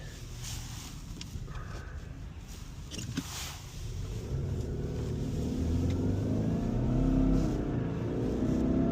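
2022 Subaru Outback accelerating at about half throttle on dry pavement through its gears, engine drone heard from inside the cabin rising steadily and growing louder over road and wind noise, with no talking.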